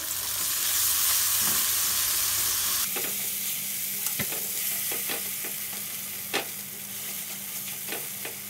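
Scrambled eggs for village-style nasi goreng sizzle in a pan, a loud frying hiss that drops away partway through, followed by scattered scraping clicks of a utensil stirring them.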